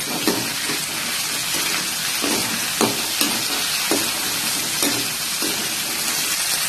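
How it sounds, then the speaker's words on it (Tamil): Tomatoes and onions with curry leaves sautéing in a pan for an oil brinjal gravy: a loud, steady sizzle broken by repeated scraping stirs, with no talk. "அதையும் கூட சேர்த்தி நல்லா நம்ம வதக்கிக்கலாம்."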